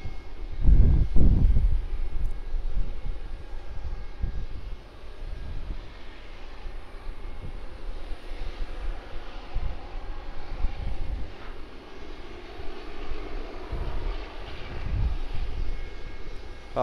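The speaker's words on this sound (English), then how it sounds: "Boeing 737-800." Boeing 737-800 arriving at Sydney Airport, heard from the end of runway 16 right: a steady low engine rumble with bursts of wind buffeting, moderately loud and continuous, no voices.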